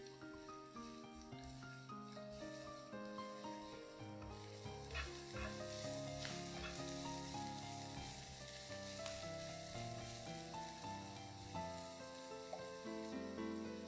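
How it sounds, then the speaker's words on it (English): Sliced onions fry in oil in a skillet over medium heat, giving a faint, even sizzle that sits quietly beneath louder background music throughout. "Fry sliced onions till it's translucent."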